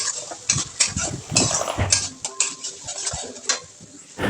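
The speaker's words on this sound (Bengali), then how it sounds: "সামান্য হলুদ গুঁড়ো আর জিরে গুঁড়ো আর পেস্ট করে রাখা ঝিঙে খোলা বাটাটা দিয়ে অনেকক্ষণ ধরে নেড়ে চেড়ে নিতে হবে।" A paste of ridge gourd peel, with turmeric and cumin powder, is stirred and fried in a pan. A utensil scrapes and taps the pan in uneven bursts over a low sizzle.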